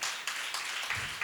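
A live audience claps at a public screening event, a brief dense burst of applause lasting just over a second.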